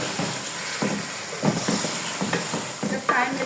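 Beef for nehari fries and is stirred in spices in a pot, a steady sizzle with repeated scraping stirs close by, no talking.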